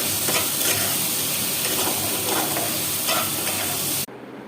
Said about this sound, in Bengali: আলুটা ভেজে নিই। মশলাটা কষে গেছে, আর আলুগুলোও দিয়ে দিলাম, আর একটু ভালো মতো কষে নিই।